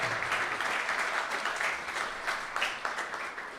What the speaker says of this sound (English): He needs a long applause.